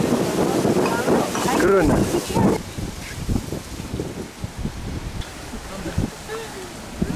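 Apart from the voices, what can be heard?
wind blowing outdoors at winery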